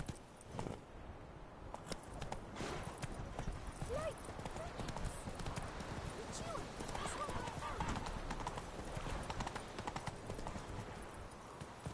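A horse gallops in The Witcher 3, its hooves beating in a quick, steady clip-clop rhythm close by, with occasional whinnies and voices talking over the hoofbeats.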